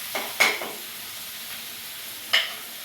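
Tomatoes sauté in a pan for ginisang kamote and malunggay. A soft sizzle runs underneath while a few sharp clinks of a utensil stir against the pan.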